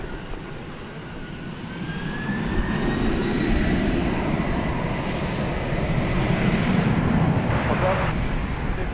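Jet airliner on the runway at DFW Airport, a steady broad roar with a faint rising whine, loud and sustained throughout, swelling slightly midway, with no talk.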